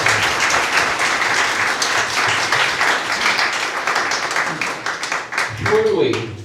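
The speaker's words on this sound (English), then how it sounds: "Give them all a round of applause, guys." A crowd at Wyld Camp gives the volunteers a loud, sustained round of applause, dense clapping that holds steady for several seconds before dipping near the end, where a voice cuts in.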